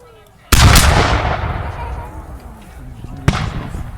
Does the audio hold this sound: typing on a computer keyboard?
no